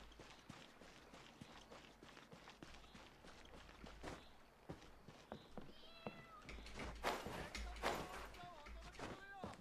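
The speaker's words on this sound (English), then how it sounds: "I can hear her meowing." A cat meowing in the video game Genshin Impact, a few faint high mews over quick in-game footsteps and other game sounds, with a person talking throughout.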